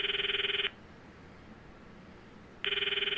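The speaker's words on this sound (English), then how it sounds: "I stop the video and call Mayuri's phone from my address book." Telephone ringing on an outgoing call in the Steins;Gate visual novel, two loud ring bursts split by a silent gap, alone with no talk.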